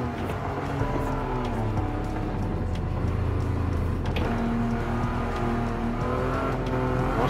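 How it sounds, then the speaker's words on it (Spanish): A Porsche 959 supercar's turbocharged engine accelerates hard, its loud rising drone climbing through gears with a shift or turbo surge midway, heard close from the car and alone without talk. "Pero veis cómo actúan los turbos, tú, se nota, ¿eh? El trabajo de los turbos."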